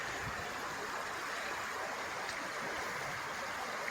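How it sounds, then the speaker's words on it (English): Creek water flows beside a dog park, a steady, soft rushing wash that stays constant throughout with no talking. "this is the creek that is right by the dog park"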